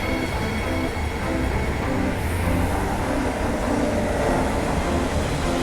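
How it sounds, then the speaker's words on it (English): A Perth suburban train pulls in, bound for Elizabeth Quay: a steady, close rumble of wheels and carriages on rail with faint high squeal, loud and continuous without voices. "here comes our Perth train now to go to Elizabeth Quay"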